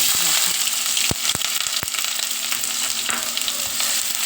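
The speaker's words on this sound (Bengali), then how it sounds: "গরম মশলা মানে গোটা দারচিনি, ছোটো এলাচ, লবঙ্গ একটু দিয়ে দিলাম, দিয়ে একটু আঁচটা কমিয়ে দেবো, দিয়ে হালকা করে এটা নাড়বো।" Whole garam masala (cinnamon, green cardamom, cloves) and chopped onion fry in a pan with a loud, steady, bright sizzle close up. A few sharp spoon knocks and scrapes of stirring punctuate it.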